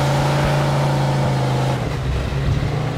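Car engine in the Mafia 2 video game running steadily with a low droning hum, then easing and shifting pitch slightly toward the end, loud and unaccompanied by speech.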